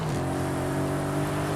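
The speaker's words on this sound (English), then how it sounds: "DSG fart for some reason when you shift gears, even though this thing does not have a DSG" Engine drone of an Audi RS car in the racing game Forza Horizon 5, a steady revving hum with a brief shift-like change near the start; no distinct exhaust pop stands out.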